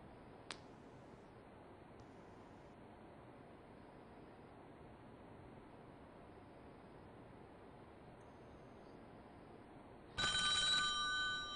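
A telephone rings with a bright electronic trill near the end, after a long stretch of steady background hiss and a faint click.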